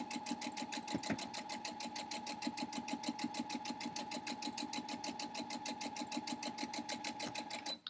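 A sewing machine runs steadily while stitching quilt blocks, a fast even mechanical chatter of needle strokes with a constant motor hum, close and alone without talk.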